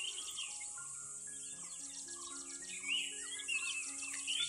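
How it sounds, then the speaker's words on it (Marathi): Crickets chirp on an evening outside a rural home, faint, shrill trills layered with thin sustained whistling tones, steady and soft in a quiet setting. "हे बघ किती रातकिड्यांचा आवाज येतो ना."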